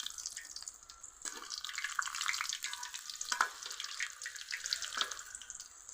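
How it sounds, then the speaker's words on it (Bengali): Potato and onion snack sizzling in a pan over low heat, a steady close crackle and hiss with scattered pops and brief clinks of stirring, no voices. "অল্প অল্প আঁচ দিয়ে ভেজে নিতে হবে।"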